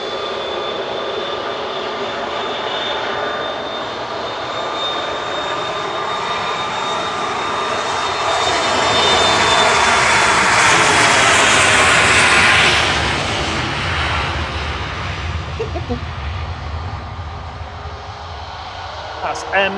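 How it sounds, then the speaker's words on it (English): A Ryanair-operated Bombardier Challenger 3500 business jet departing Manchester Airport for Newcastle, a broad roaring jet rush that swells to a peak midway, then slowly fades, with a steady high whine running through it. "That's ABSU departing there to Newcastle. Little Bombardier Challenger 3500"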